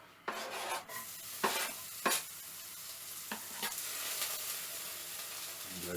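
A wok heating up for a Slimming World vegetable gumbo sizzles with a steady broadband hiss, broken by a few scraping stirs and clanks of a utensil against the pan.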